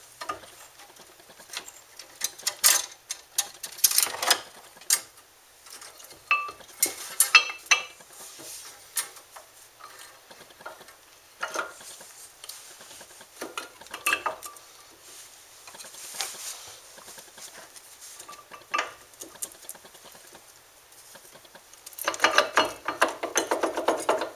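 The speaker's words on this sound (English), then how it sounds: "Now I should be able to just put the caliper back on and put in those slide bolts." Brake caliper slide bolts go back in on a Ford Focus, with scattered ratchet clicks and metallic clinks and clatters in irregular bursts, close but fairly quiet.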